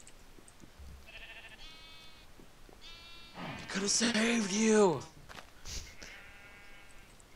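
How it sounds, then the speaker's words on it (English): Sheep in the Minecraft video game bleat in short, wavering calls several times, alongside someone talking and exclaiming loudly over the game sounds. "I found a new sheep."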